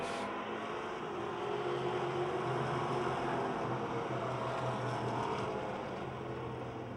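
Race cars circling a speedway oval under caution, drivers grabbing gears, with a steady loud engine roar throughout and no clear separate shifts.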